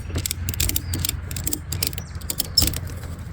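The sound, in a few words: ratchet tie-down strap being ratcheted tight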